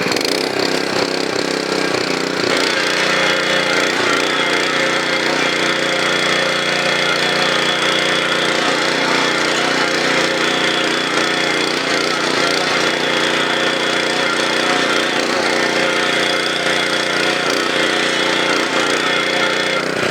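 A center rotary tiller runs in second gear with a loud, steady engine drone and a gritty churning rumble that stays constant and close throughout, with no speech.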